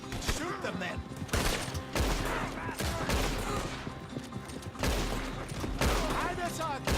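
Dense, sustained gunfire rips through a Red Dead Redemption 2 shootout, loud overlapping shots and bursts with heavy low booms, almost continuous, with voices shouting underneath.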